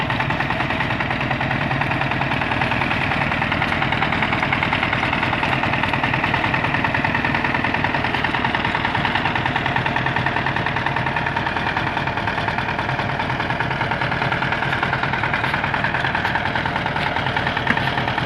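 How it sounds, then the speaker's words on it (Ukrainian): A small 4x4 tractor drives with its front axle and all-wheel drive engaged. Its engine drones loudly and steadily throughout, close by, with no talking. "Ось як вам працює передній міст і повний привід."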